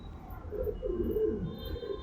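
A pigeon, a young racing bird, gives a soft, low cooing call of several rolling notes, close by and fairly quiet.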